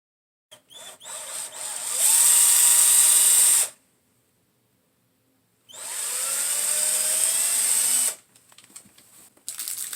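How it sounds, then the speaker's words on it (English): A power drill pre-drilling screw holes for a cabinet latch whirs in two loud bursts of a couple of seconds each, separated by silence, with short clicks and a brief restart at the end. "You can pre-drill the holes in order to make screwing the catch in easier"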